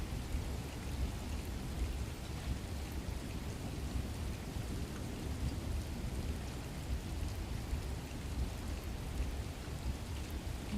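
Steady rain patters against windows while low rolls of thunder rumble beneath, a dense, even wash of sound with no voices and no breaks.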